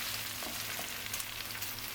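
Homemade döner meat fries in a pan on high heat, giving a steady, close sizzle with soft crackles throughout and no talking.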